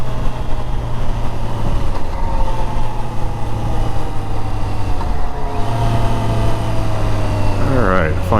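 A Triumph Trident 660 motorcycle rolls on the throttle in sixth gear at road speed. Its engine drone holds steady under wind rush, and the pitch climbs sharply near the end.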